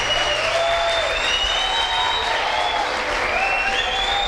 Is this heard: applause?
yes